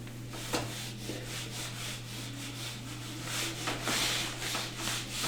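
Board eraser rubbing across a writing board in a lecture room, a steady scrubbing swish with rhythmic strokes, close and moderately loud, no talking.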